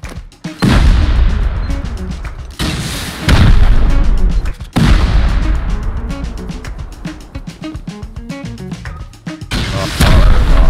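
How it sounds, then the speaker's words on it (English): C4 charges and rockets blowing into a player base during a raid in the survival game Rust, several loud, heavy blasts with long rumbling tails, one after another, a faint voice occasionally underneath. "Or I could just do it with another C4 and a rocket."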